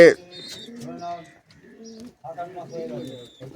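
Pet pigeons at a home loft coo in repeated low throaty phrases, fairly close, alongside some brighter chirps and talk in the background.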